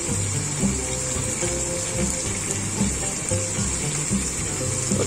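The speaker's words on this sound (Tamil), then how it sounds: "போட்டு நல்லா வதக்கிக்கிங்க." Tomatoes, coriander, mint and green chillies for chicken biryani sauté in a pan with a constant, dense sizzle and a watery hiss, close and steady throughout.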